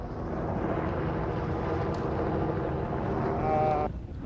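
A helicopter from Ultimate Helicopters passes overhead at an enduro race event, giving a steady low rumble with wind buffeting that swells toward the end and then drops away. A tonal whine surfaces briefly near the close.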